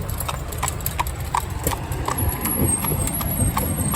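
Horse hooves clip-clop at a steady walking rhythm on a hard road at a busy town roundabout, with traffic rumbling in the background.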